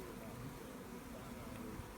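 Honeybees swarm over a person wearing a bee beard in a backyard, giving a faint, continuous low buzz that holds steady throughout, with no talk over it.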